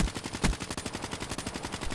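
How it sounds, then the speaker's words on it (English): Rapid gunfire in a video game shooter, a sniper rifle and automatic weapons, with a dense stream of close, loud shots, one heavier blast near the start, and no talking over it. "I get sniped as I'm sliding with a PO6"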